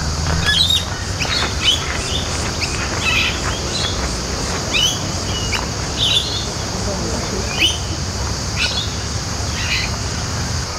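Cicadas and birds in Nudgee bushland: a steady, loud, high insect drone runs throughout, with repeated bird chirps and calls scattered over it.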